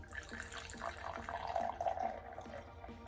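Coffee poured from a Bialetti moka pot into a cup, a soft continuous liquid trickle with faint rhythmic clinks, heard close and alone with no talk.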